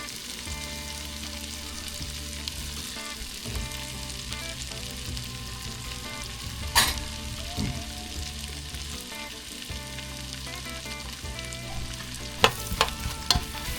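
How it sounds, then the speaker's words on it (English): Carrots, celery and onion sizzle steadily in butter and rendered bacon fat, with a spoon clattering against the pot now and then as the vegetables are stirred. No one speaks. "we got our butter added into our rendered bacon. Time to add our carrots, celery, and onion."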